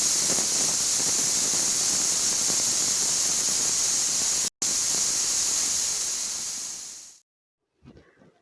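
A pressure cooker holding cooked mutton haleem releases steam as a loud, steady hiss up close, broken once by a brief gap, then tapering off abruptly into near silence with a few faint sounds at the end.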